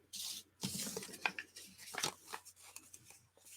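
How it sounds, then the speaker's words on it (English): Paper is cut through the middle by hand with scissors or a tearing motion for a junk journal, giving short crisp rips and rustles in quick bursts, close and fairly quiet. "come in, cut that middle out."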